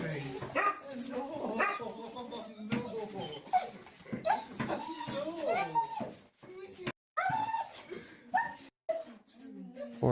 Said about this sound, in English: that's a nice dog.